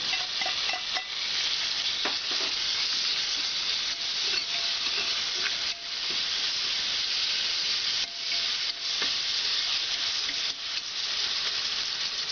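Sliced onions fry in a pan with curry leaves and ginger garlic paste for a Kerala-style beef biryani, a loud, continuous close sizzle and hiss with occasional stirring scrapes.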